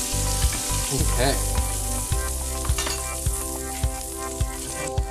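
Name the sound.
short ribs searing in a pot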